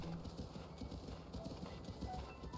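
Horse hooves gallop in The Legend of Zelda: Breath of the Wild, a quick steady clip-clop rhythm running throughout, fairly quiet and mixed with game ambience, with no talk.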